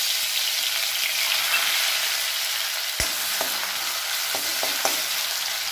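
Ginger garlic paste sizzles in hot oil in a kadai, a steady broadband frying hiss that fills the whole clip, with one sharp clink near the middle and a few light stirring taps afterward. No voices.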